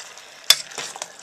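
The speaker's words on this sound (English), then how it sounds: "And now the chopped tomatoes. So give that a stir." Chopped tomatoes being stirred in a small pot for spaghetti bolognese, a short scraping stir with one sharp clack of the spoon against the pot, then soft simmering and faint sizzle, close and fairly quiet.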